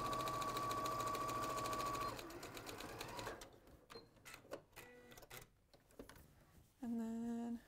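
A sewing machine stitches through several fabric layers, running steadily with a whine for a couple of seconds, then slowing into irregular stitches and stops, and finally giving one more short, loud run.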